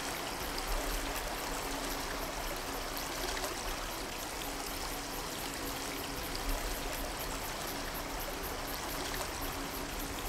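Clear stream water runs steadily past stones, a continuous close rushing and trickling wash with no breaks and no voices.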